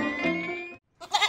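A goat gives one loud, close, wavering bleat, followed by a short pause and a second brief bleat.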